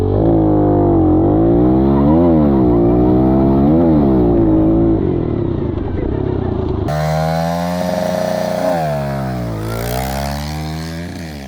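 A Stark VARG MX electric dirt bike whines loudly in a drag race, its high motor pitch rising and falling as it accelerates and shifts load, close and intense, then continuing from another vantage.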